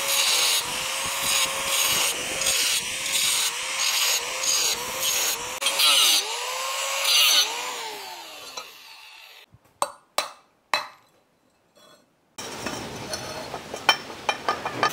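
An iron pipe, 1.25 inches across, is cut with a power tool in a steady grinding run with rising and falling pitch, then pauses in a few short sharp bursts before a final stretch of cutting.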